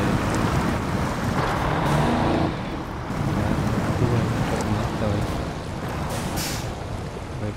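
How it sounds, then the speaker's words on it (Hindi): Truck driving through river water in SnowRunner, a continuous loud churn of engine and splashing water that dips briefly in the middle before surging again, with no talking. "मोटू भाई ने निकाल दिया भाई ट्रक, देख सकते हो भाई"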